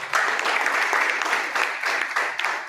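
An audience at a police honour ceremony stage event applauds, with dense, steady clapping from many hands that continues for a few seconds.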